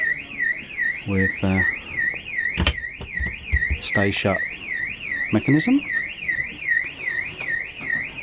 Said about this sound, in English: That's not me set the alarm off.